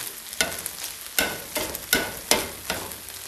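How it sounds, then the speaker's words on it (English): An egg frying in a pan with ramen noodles, with a constant bright sizzle broken by several sharp bursts of spattering at irregular intervals, close up and with no talking. "let that egg cook in there"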